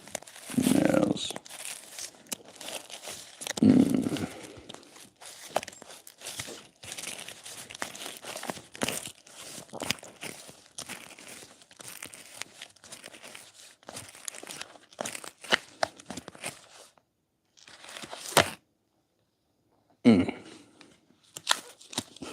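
Cards being shuffled and handled before one is picked, a long stretch of close, irregular papery rustling and crinkling, broken by a few short spoken bursts and brief pauses.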